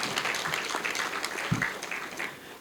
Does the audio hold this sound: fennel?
no